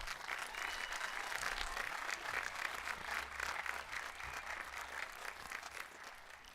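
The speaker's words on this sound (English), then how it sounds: "Please join me, ladies and gentlemen, in applauding our Warrior team for a job well done." Audience applause at the Snow Canyon High School class of 2025 graduation ceremony, a steady, dense roll of clapping heard from a distance at fairly low level, continuing unbroken throughout.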